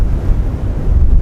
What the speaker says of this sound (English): It's about normal wind speed here.